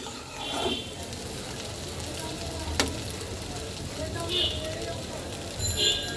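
Potato curry stir-fried over high heat in a pan gives a steady, close sizzle with a few brief scrapes and clatters, and voices are faintly present underneath.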